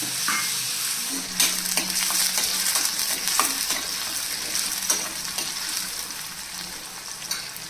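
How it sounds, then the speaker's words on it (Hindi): Steady sizzling of onions and green chillies frying in hot oil over low flame, with occasional scrapes and stirs in the pan, close and continuous. "फ्लेम को करेंगे लो और ये प्याज हरी मिर्ची डाल देंगे इसके अंदर।"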